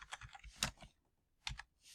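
Quiet typing on a computer keyboard, two short bursts of quick key clicks separated by a brief pause, close and faint.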